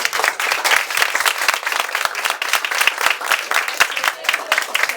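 Dense, steady audience applause from a crowd at a personal development event, many hands clapping continuously and fairly loudly with no speech over it.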